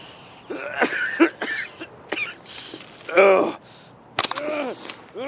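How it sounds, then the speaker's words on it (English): A character in the shooter game Escape from Tarkov coughs hard, in several harsh, close bursts with throaty, groaning breaths between, some bursts longer and strained. "coughing my guts up"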